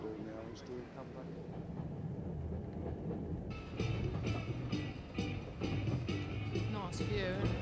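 A train at London's Waterloo Station rumbles steadily as a platform-side background, with a brighter burst of screeching and rolling noise joining midway while people talk over it.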